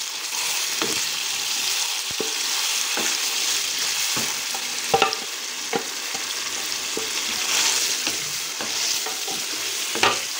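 Steady, loud sizzling of spiced marinated chicken frying in a hot pan for biryani, with occasional clinks and scrapes of stirring throughout.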